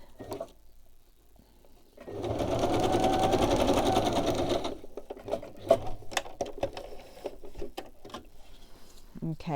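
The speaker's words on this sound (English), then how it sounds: "My sewing machine is quite far away from the camera" A sewing machine runs a zigzag stitch in one steady, buzzing burst of about two and a half seconds, heard from a few metres away, followed by scattered handling clicks and rustles.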